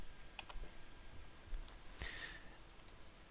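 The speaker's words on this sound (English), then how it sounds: "you have to go to your inventory tab by clicking the I key on your keyboard" A few light clicks of a computer keyboard key being pressed while playing an online game, sparse and quiet, spaced irregularly over a faint background hum.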